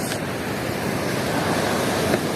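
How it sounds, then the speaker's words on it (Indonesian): Ocean surf rolls steadily at Labuhan Jukung beach in Krui at low tide, a continuous broad wash of waves mixed with wind buffeting the microphone. "Ini suasana pantainya. Pantai Labuhan Jukung, kan?"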